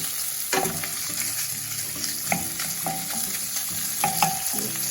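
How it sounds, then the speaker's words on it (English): Sausage browns in a pan for shrimp and grits while a utensil stirs it, bright steady sizzling with a few scraping clinks of the spoon against the pan scattered through. "we'll go ahead and give our sausage a stir, browning up really nicely"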